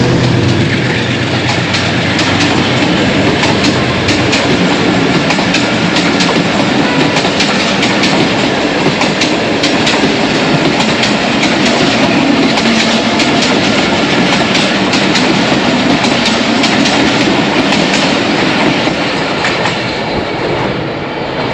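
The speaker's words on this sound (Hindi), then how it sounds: "14 डाउन अवाम एक्सप्रेस गुजर रही है" The 14 Down Awam Express passenger train rolls past an outer signal near a level crossing in Pakistan on a foggy morning, a loud, close, continuous rumble with rhythmic clickety-clack of wheels on rail joints throughout.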